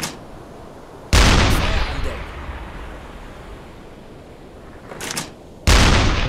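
A U-boat deck gun in a World War II submarine game firing rounds at a convoy ship in April 1941, two loud booming shots several seconds apart, the first with a long rumbling decay and a fainter report in between.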